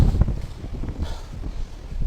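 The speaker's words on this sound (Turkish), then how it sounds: "Çok hızlı, inanılmaz bir rüzgar var." Strong wind in Çanakkale, Turkey, buffets the microphone in heavy, low rumbling gusts, loud and continuous, with a faint watery wash beneath.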